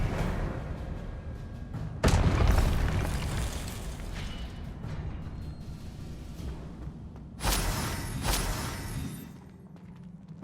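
Spells cast in Hogwarts Legacy release whooshing bursts and booming explosions, two big blasts standing out over a steady rumbling game soundscape, no voices.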